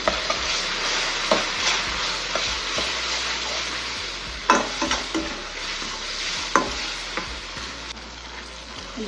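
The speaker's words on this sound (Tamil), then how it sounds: "நல்லா மசிச்சு விட்டுருங்க தக்காளியை" Steady sizzling of tomatoes and onions frying in a pan, with a spatula scraping and tapping now and then as it is stirred; no talking.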